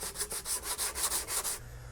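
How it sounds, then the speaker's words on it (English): Hand sanding of car body paint with 150 grit sandpaper during body work, about nine rhythmic back-and-forth rubbing strokes, close and loud, then stopping. "I am actually using 150 grit sandpaper"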